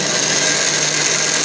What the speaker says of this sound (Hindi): ग्राइंड कर रहे हैं जी हम मसाला आज जो है ना ग्राइंडर में